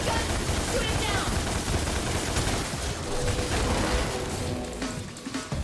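A gun in Devil May Cry fires a rapid, continuous stream of shots that stays loud and close almost the whole time before easing off at the very end.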